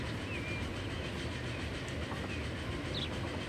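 An electric train on a Pennsylvania line rolls along in the Transport Fever game, a steady low rumble with a faint clickety-clack of wheels, plus a few light tonal chirps, with no talk.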